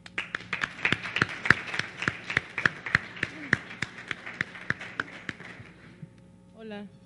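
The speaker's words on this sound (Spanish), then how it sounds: "Un fuerte aplauso." A round of applause from the audience at a drug policy forum in Mexico, heard as regular, sharp claps that hold steady, then stop before a short burst of speech.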